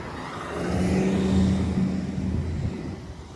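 A hybrid city bus on Ellesmere Road in Scarborough, Toronto, rumbles past with a steady low engine hum that swells to a peak midway and then slowly fades.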